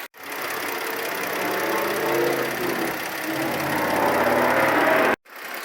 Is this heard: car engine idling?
yes